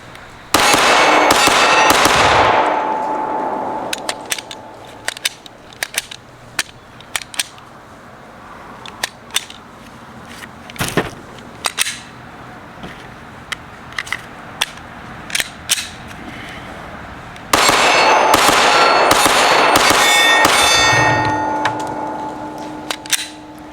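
A pistol fitted with a Gflex aftermarket trigger fires a long series of sharp, loud gunshots, some in quick strings and others spaced apart, with ringing reports and louder echoing passages near the start and end; no speech.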